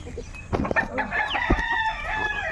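Chickens cluck and a rooster crows among chicks on a farm, with loud, close, repeated crowing calls over busy clucking.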